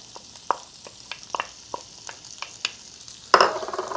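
Onions sizzle in a hot cast iron pan at medium high heat, a quiet steady hiss broken by repeated clicking stirs and a louder scraping clatter near the end.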